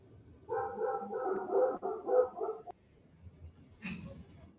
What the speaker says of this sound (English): He sounds like a big dog wherever he's at.